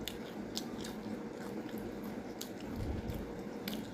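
A grandmother chews and eats a snack up close, with soft wet squishing and intermittent small crunching clicks over a quiet background murmur.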